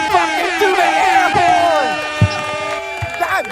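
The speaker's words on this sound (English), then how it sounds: "Don't fucking do the air horn!" A loud, blaring air horn honks repeatedly over a noisy, excited crowd of voices, the harsh tones sliding and overlapping close by.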